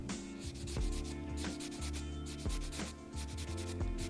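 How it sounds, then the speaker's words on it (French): A buffer block is rubbed back and forth over a client's fingernails to smooth out ridges during a manicure, giving a steady, close run of soft rasping strokes over a faint background hum. "je passe le bloc polissoir pour retirer les stries de l'ongle"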